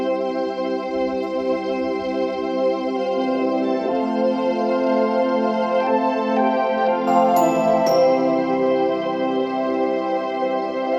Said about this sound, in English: this is the farfisa. That's really the beach sound.